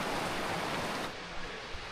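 Constant roar of a waterfall at Katra, Jammu and Kashmir in the morning, broad and rushing, continuing evenly with a slight drop in brightness partway through.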